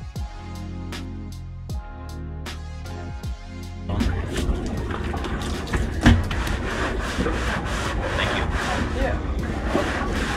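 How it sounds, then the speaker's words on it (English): Hand scrubbing of a sailboat's surfaces, including wet teak, gives a continuous rough rubbing that grows louder and denser after a few quiet seconds, with faint talk in the background. "we can clean all the surfaces by hand"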